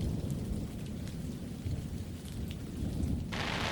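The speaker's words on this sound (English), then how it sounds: "tonight, it's raining" Steady rain falls at night in Blanding, Utah, with a dense patter on surfaces and a low rumbling undertone throughout, with no voices.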